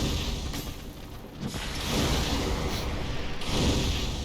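A fire pyromancy spell cast in Dark Souls roars out in whooshing bursts of flame, rising and falling in loud surges over a few seconds with no talk.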